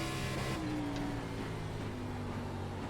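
Race car engine in the iRacing ARCA Menards Series sim, held at a steady loud drone with a rising tone as throttle is worked on corner exit, continuous throughout with no talk.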